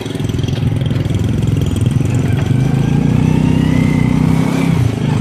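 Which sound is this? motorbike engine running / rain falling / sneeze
motorbike engine running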